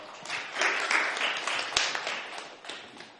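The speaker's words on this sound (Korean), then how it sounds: "일단 박수로 모시겠습니다" An audience at a panel discussion claps to welcome a speaker, a moderate scattered round of applause rising and falling with a few sharp individual claps.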